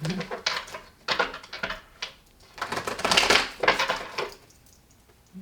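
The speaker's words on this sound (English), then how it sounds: "We'll do a few more shuffles to see if they want to do anything more on that." Tarot cards shuffled by hand in several bursts of crisp riffling and slapping, close and fairly loud, with short pauses between shuffles and no talking over them.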